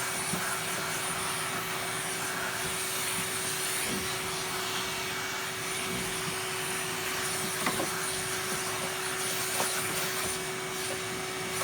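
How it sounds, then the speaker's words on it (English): A Hoover vacuum cleaner runs steadily throughout, a close, loud, continuous whooshing drone with a constant humming tone and a few faint knocks as it is moved around. "Let's just give it a quick vacuum out."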